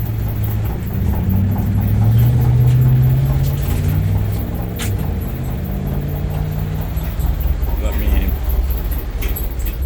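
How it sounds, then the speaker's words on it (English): A Toyota AE71 engine idles unevenly with a low, rumbling rough tone that persists throughout, close by, with some background noise. "As you could hear, the engine's not too happy."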